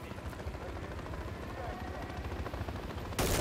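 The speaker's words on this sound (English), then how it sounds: "Effective fire on the helo." Steady automatic gunfire aimed at an enemy helicopter in Modern Warfare 3, a dense rapid rattle under radio chatter and rotor noise, loud and continuous.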